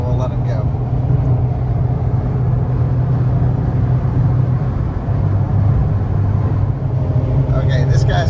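Continuous low engine rumble and road noise from a Fiat Panda hybrid with manual transmission driving on an Italian road, heard from inside the car at steady, fairly loud level.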